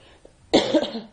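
A single harsh cough close to the mic, loud and abrupt, trailing off over about half a second.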